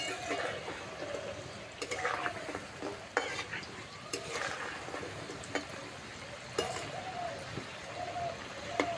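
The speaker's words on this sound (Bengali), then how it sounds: "আস্তে আস্তে জাল দিয়ে নিমকিগুলো ভেজে নেব।" Nimki snacks frying in hot oil in a wok, a steady close sizzle with occasional stirring scrapes and utensil clinks throughout.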